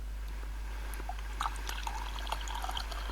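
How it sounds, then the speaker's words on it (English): Soft water soundscape of scattered drips and small splashes over a low constant hum, faint and irregular with no voices. "the soundscape I made was like this collection of water."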